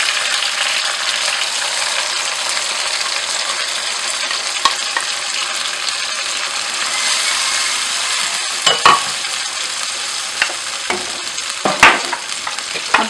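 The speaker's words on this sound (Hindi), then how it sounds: "और साथ इसमें जिंजर गार्लिक पेस्ट डाल लेंगे। थोड़ी देर तक इसको हम पकाएंगे।" Ginger garlic paste frying in a pan, giving a steady loud sizzle with occasional scraping stir strokes and sharp crackles toward the end.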